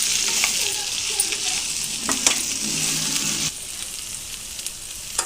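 Okra and prawns frying together in a pan, a constant crackling sizzle with scraping stir strokes and light clinks, close and moderately loud, no one talking.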